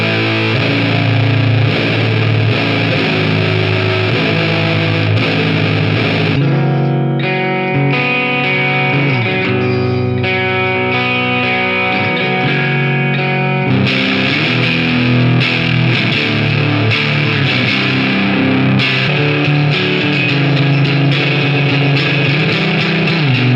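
Electric guitar played through a Dirty Sock Effects Millionaire distortion pedal, thick saturated chords and sustained notes ringing loud and continuous, with a brief thinner passage in the middle before the full roar returns.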